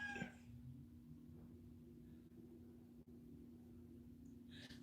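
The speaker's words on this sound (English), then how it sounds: "I'm gonna ignore this cat right here whining at me" A cat whines indoors with short, faint cries at the very start and again at the end, separated by quiet room hum.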